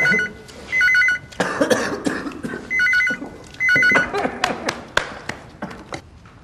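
An old-fashioned telephone bell rings in short repeated bursts, fairly close, with coughing and small knocks between the rings.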